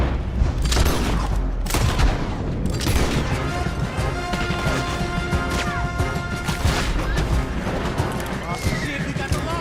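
A gunfight in Red Dead Redemption 2 during a roadblock ambush: rapid cracking shots and crashing impacts keep going throughout, with voices talking over the loud, dense battle.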